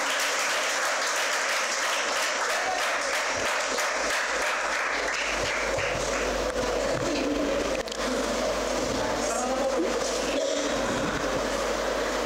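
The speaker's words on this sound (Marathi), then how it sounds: "जोरदार टाळ्या वाजवून आपण स्वागत करूया" Sustained audience applause welcoming guests at a Jadhavar Institute event, a dense wash of many hands clapping steadily and loudly for the full stretch with no break.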